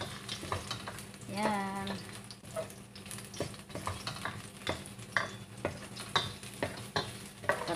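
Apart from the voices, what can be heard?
sautéing vegetables (chayote, cauliflower, carrots) in a pan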